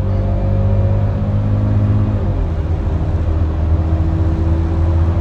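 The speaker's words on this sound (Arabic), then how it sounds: "طبعا بتسمع صوت الموتور شوية، وصوته حلو على فكرة الموتور" A Mercedes C200 engine hums and rumbles steadily up close with the air conditioning running, its pitch shifting slightly midway as if revving, with no voices over it.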